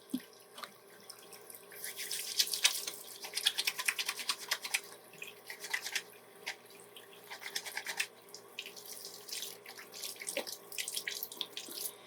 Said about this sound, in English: you always need to wash your hands. Okay, so I'm going to go ahead and do that right now.